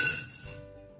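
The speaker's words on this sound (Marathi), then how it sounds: "कढईमध्ये 10 ते 12 काळे मिरे घालू।" A few black peppercorns drop into a metal kadhai, giving a quick bright clink with a short ringing tail that fades within a second.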